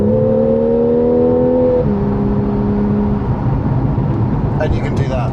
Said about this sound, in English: I barely tickled the accelerator there, got up to 60, no bother at all.